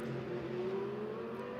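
A race car at the 2023 Hankook 12H Mugello endurance race pulling away from the pits after refuelling, a sustained rising engine tone heard at a moderate distance that ends in a sharp burst.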